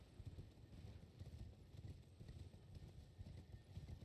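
Hoofbeats of a horse galloping in a video game, a steady rapid clip-clop rhythm held close and moderately loud throughout, with no talk over it.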